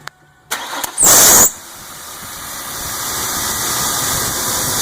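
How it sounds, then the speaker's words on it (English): A Ford Explorer engine cranks and starts, with a brief loud catch, then settles into a steady hissing idle that slowly grows; no talking. "Starting the car, we're looking for a squeal."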